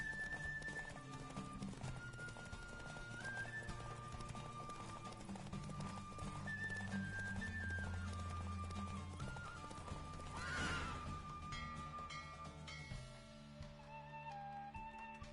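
Hooves of a horse pound in a rapid gallop during a race in The Witcher 3 video game, a steady clip-clop rhythm with snorts and a whinny, set against game music and ambience.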